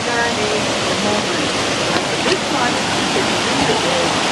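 A dirty, swollen river rushing past, a loud, steady roar of moving water with faint voices talking beneath it.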